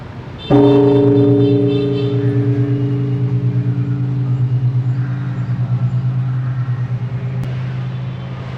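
A large temple bell in Da Nang, Vietnam, is struck: a deep tone booms once and hums on with a slow, pulsing waver, lingering loudly for several seconds.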